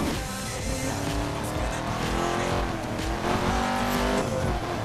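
A racing car engine in the video game Need for Speed drones and whines steadily at high revs, with shifting pitch and occasional tire noise, loud and continuous.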